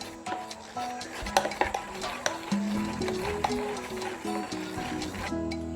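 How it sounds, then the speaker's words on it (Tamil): Melted butter being stirred into rava chocolate cake batter in a bowl, with the spoon scraping and clinking against the sides in quick irregular strokes, close up, and a wet, thick mixing sound beneath. "இப்போ அதையும் சேர்த்து நல்லா கலந்து விட்டுக்கலாம்."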